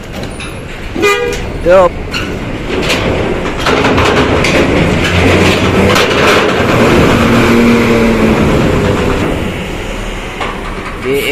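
An intercity Kosayu bus carrying a Muktamar congress group from Lampung roars past on the road, its loud engine and tyre noise swelling over several seconds, with short horn toots near the start and a brief voice nearby.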